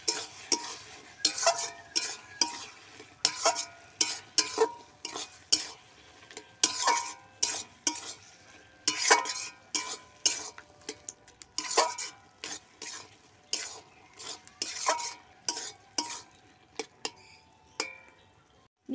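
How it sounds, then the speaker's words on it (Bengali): Spinach and bori curry stirred in a pan, a spoon scraping and clacking against the metal in quick repeated strokes with a faint sizzle underneath, close and fairly loud throughout. "চিনি দিয়ে ভালো করে নাড়িয়ে নেব"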